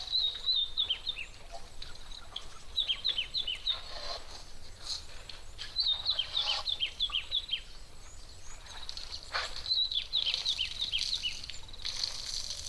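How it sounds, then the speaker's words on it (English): A scrub robin, white-browed or bearded, calls at a waterhole in repeated short bursts of high, descending chirps. The calls sound fairly faint and distant over quiet background noise. "it's one of the robins, I'm fairly confident, either white-browed or possibly bearded scrub robins"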